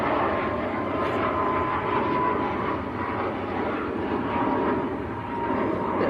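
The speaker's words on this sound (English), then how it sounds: "Tui, just getting airborne." A TUI airliner taking off at Manchester Airport, a broad, sustained jet engine roar at moderate distance, steady and rumbling throughout with no talk over it.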